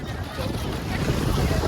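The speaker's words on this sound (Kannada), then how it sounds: "ಸೊ ಬೋಟ್ ಬಂದಿದೆ" A boat reaching the shore by the sea near Sindhudurg fort in Malvan, heard as a steady wash of surf and wind with a low rumble that swells slightly toward the end, with no clear voices.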